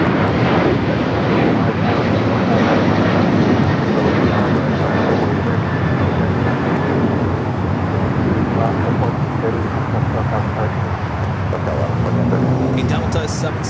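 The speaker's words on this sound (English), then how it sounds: "A Delta 767 at 400 ER touching down here on the south side of this flight" Delta 767-400ER jet airliner touching down on the south side at LAX, a loud, sustained broadband engine rumble and roar with a faint whine, steady throughout and mixed with distant traffic noise.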